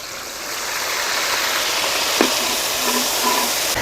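Ground onion paste dropped into hot oil with green chillies in a village kitchen, giving a loud, steady, close sizzle and bubbling hiss that runs throughout, no talking.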